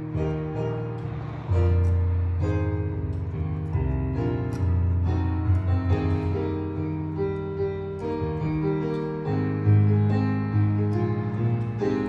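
Piano intro to a song played in a home garage, gentle gospel-style chords and low bass notes rolling at a slow tempo, moderately loud and close with faint background noise.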